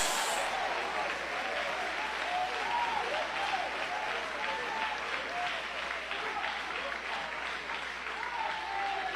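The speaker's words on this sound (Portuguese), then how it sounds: "Mais forte, palmas glorificando a Deus." Sustained applause fills a church as the congregation keeps clapping in a thick, steady roar, with scattered voices calling out praise over the claps.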